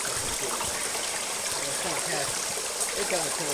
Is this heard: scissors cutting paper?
no